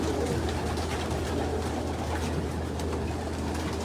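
A pigeon coos softly over a constant low background hum, the calls repeating in gentle murmurs close by with no talking.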